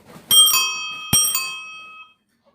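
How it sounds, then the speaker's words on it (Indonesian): Bell on an old onthel bicycle rings twice, each time a quick double strike that leaves a bright metallic tone fading out, near and loud, then quiet. "bel itu mirip dengan suaranya mirip dengan gentah perlintasan kereta api dan delman"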